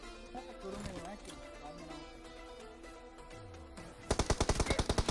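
Gunfire in the mobile battle royale game BGMI, with a rapid burst of about a dozen automatic shots at the end, loud and close, following game sounds and music.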